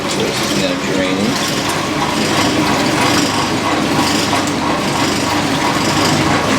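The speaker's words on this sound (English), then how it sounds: "So this is now draining." A 1996 Whirlpool washing machine drains its wash water with a continuous, loud churning rush and mechanical rumble, while people talk over it.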